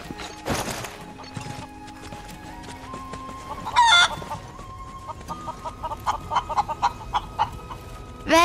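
Chickens cluck and crow in the Final Fantasy VII Rebirth video game, with bursts of clucking and a rooster call over a game soundtrack, fairly close and repeating in quick irregular runs.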